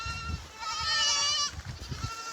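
A goat bleats in a drawn-out, wavering cry, fairly close, with rustling and low handling noise before and after.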